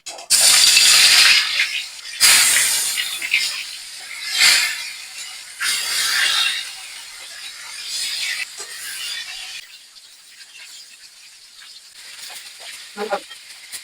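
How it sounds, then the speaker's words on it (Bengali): Pieces of katla fish hitting hot oil set off loud bursts of hissing sizzle that surge, fade and return several times, then settle to a quieter crackle. "মাছগুলো এবার তেলে ছেড়ে দেবো"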